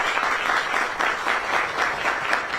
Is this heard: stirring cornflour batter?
no